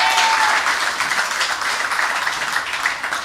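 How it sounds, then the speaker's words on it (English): Crowd applause at a UNC political rally in Tunapuna, Trinidad, a dense, steady wash of many hands clapping that runs without a break and eases slightly toward the end. "Give her a round of applause."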